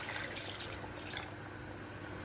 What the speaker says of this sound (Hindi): ये 4 कप पानी मैं डाल रही हूँ।